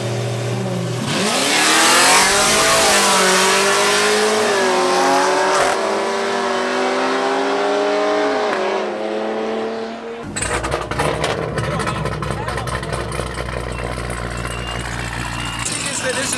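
A supercharged LT4 Chevrolet SS racing, its engine revving loud and close with a rising, climbing roar, then shifting into a rougher, steady drone under a brief shouted voice.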